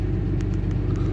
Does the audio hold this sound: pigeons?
no